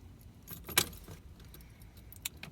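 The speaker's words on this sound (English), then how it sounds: "Now I'm going to show you this by actually starting the car" Ignition key turning in a car being started, with a jangle of keys and a click, followed by a brief starter sound toward the end; quiet and close, no speech.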